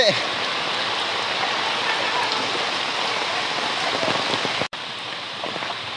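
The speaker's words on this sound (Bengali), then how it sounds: "আপনারা দেখতেছেন প্রচুর পানি বৃষ্টিয়ে" Heavy monsoon rain pours over a flooded village yard and pond, a loud, constant broadband roar of water that drops out for an instant near the end, then resumes.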